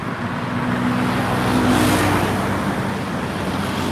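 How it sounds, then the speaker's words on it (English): Dense rush-hour traffic on a busy street in Chiang Mai, Thailand, heard as a continuous, loud roar of car engines and tyres with passing vehicles swelling and fading, no voices. "Yeah, it's a loud street. I don't know if you can see it. There's tons of cars."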